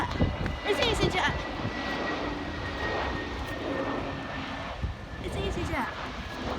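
An EasyJet passenger jet coming in to land at Puerto del Carmen, a steady broad engine roar holding throughout under excited talk from nearby spotters.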